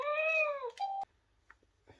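A battery-powered mechanical toy cat lets out one loud, clear, electronic meow with a falling pitch, then a short beep-like tone cuts off into near silence with faint handling clicks.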